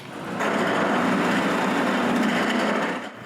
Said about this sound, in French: Pour percer les trous, j'utilise une mèche de toupie à coupe spirale dans la perceuse à colonne et je perce un trou sur chaque ligne que j'ai faite.